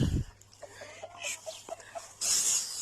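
Hens cluck softly in short, scattered bursts, fairly close, in a backyard poultry flock, followed by a louder rustling noise near the end.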